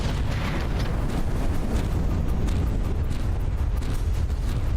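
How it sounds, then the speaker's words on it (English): Rear crank cannons on a warship in From the Depths, a constant heavy roar of rapid blasts and booms that stays loud and dense throughout, with no voices. "I love these little rear crank cannons, they're so funny."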